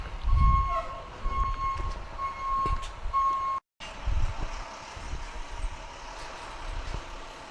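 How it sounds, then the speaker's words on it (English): A dump truck's steady reversing beep repeats at an even pace over its low rumbling engine nearby, with a brief dropout partway through. "There's literally a dump truck sitting behind me beeping like it's backing up and running its engine"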